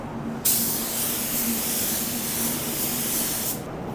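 A spray gun lays down a coat of pearl white car paint, giving a steady, loud hiss that starts abruptly, runs without a break for about three seconds and then cuts off.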